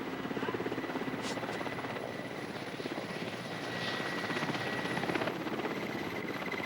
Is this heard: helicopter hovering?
yes